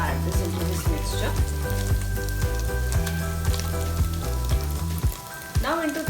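Dried red chili pieces, cut to about an inch, sizzling as they hit hot oil in a spiced mixture for mutton yakhni pulao, a dense continuous frying crackle with faint stirring and clinks.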